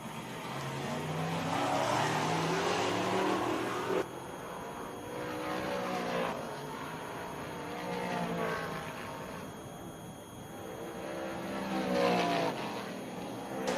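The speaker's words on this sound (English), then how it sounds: "driving in the Bridge Marketing SCR number 1J, Danny Creedon." Race cars roar around the Georgetown Speedway short track, a continuous loud engine drone rising and falling as cars pass, with layered motors blending into a steady racing din.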